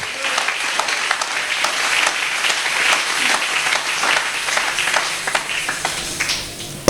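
A church congregation applauding at a French-language prophetic service, dense continuous clapping from many hands in a reverberant hall, loud and sustained throughout with a few voices mixed in.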